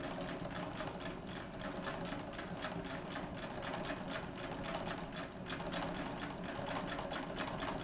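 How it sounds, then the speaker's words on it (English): A home treadle sewing machine stitches a wool blanket coat, running with a steady rapid clatter of needle strokes close by, continuous and fairly loud with no talking. "this is my new home treadle sewing machine I'm using"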